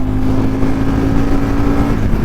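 Aprilia Tuono 1000 R motorcycle engine running on a wet road, a loud, steady low rumble that holds for two seconds with no talking.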